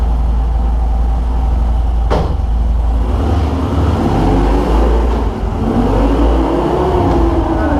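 A Harley-Davidson motorcycle runs on a dynamometer, its loud close engine droning and revving up through the gears with a sharp shift partway, steady and dominant with no talk.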